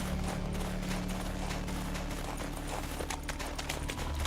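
Horse hooves clip-clop in a steady, rapid rhythm in The Witcher 3, with light tack rattles over a low ambient hum.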